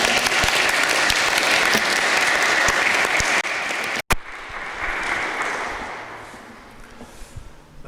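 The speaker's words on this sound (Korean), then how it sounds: "우리 다시 한번 박수로 환영하도록 하겠습니다" A church congregation at a Sunday worship service applauds to welcome a newborn baby, steady close clapping for about four seconds, then a sharp break and a quieter, thinning patter that tapers off.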